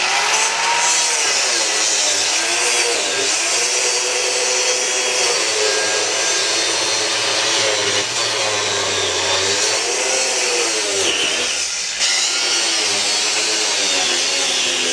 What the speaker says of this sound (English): And that's about it for that cutoff wheel.